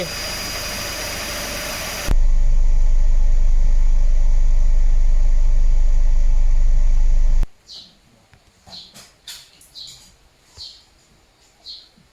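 Car engine idles with the air conditioning compressor engaging and cutting out, a loud steady hum that switches character partway, then drops away to quieter chirping sounds.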